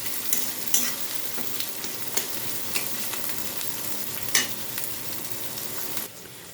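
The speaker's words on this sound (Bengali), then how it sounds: "এদিকে আমার পেঁয়াজটা আধা ভাজা হয়ে এসছে এটা পুরো লাল করে ভেজে নেব" Onions sizzle steadily in a hot pan, with occasional scraping stirs of a spatula breaking through the continuous frying crackle.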